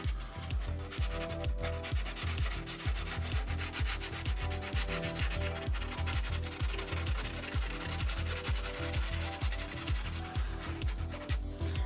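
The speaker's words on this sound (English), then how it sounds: "it doesn't even need to be fully sanded down, just scuffed up and smoothed out" Sandpaper scuffs the inside of a plastic New Bright 1/10 Ford Bronco RC hard body in steady, rhythmic back-and-forth strokes, close and continuous throughout.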